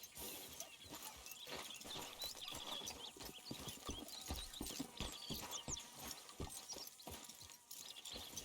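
Rhythmic clip-clop of horse hooves in Red Dead Redemption 2, steady close footfalls with faint tack rattles and ambient game sounds, no talking.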